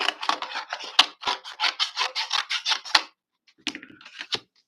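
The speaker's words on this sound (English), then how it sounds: "let me cut a piece off" Scissors snip through a piece of white paper with a quick run of crisp, rhythmic cuts, then a short pause and a few more closer snips, near and alone.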